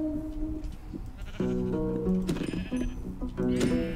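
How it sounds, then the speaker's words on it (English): Sheep in the Minecraft video game bleat several times in quick succession, clear and close, with a faint background hum and no talking. "More sheep."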